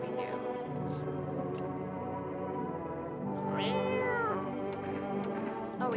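A cat in the video game No, I'm Not a Human meows several times, drawn-out and wavering, fairly close and moderately loud, with soft background tones underneath.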